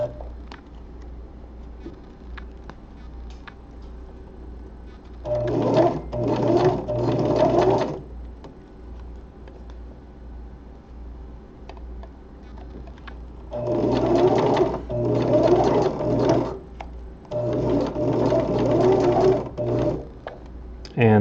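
A sewing machine stitches spandex glove fabric in two close, rapid whirring bursts separated by quieter stretches, with a low steady hum underneath throughout.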